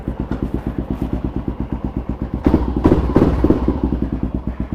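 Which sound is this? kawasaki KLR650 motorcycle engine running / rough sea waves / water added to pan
kawasaki KLR650 motorcycle engine running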